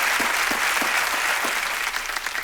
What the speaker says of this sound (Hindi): तालियां बज जाए एक बार